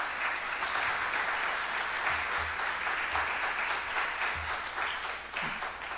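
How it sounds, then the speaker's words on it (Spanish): A room full of people applauds steadily for several seconds, a dense, even patter of clapping with no voices over it. "Margarita, si te puedes parar un momentito para darte un pequeño aplauso."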